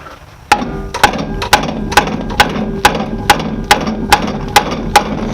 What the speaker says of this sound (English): I use a rubber mallet on them most of the time.